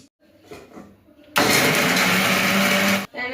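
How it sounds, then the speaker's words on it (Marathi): A kitchen mixer grinder blends tomato thecha with coriander and salt, a loud steady whir lasting under two seconds that starts and stops abruptly after quiet handling. "मिक्सर मध्ये काढून घेणार आहोत"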